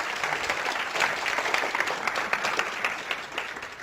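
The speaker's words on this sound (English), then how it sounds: "Give him a nice round of applause." An audience applauds at a hypnosis demonstration, a continuous, fairly loud wash of clapping from many hands that holds steady throughout.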